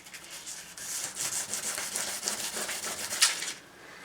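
Sandpaper rubbing by hand on a Triumph motorcycle heat shield in a garage, a steady, moderately close scratching with repeated strokes for about three and a half seconds before easing off.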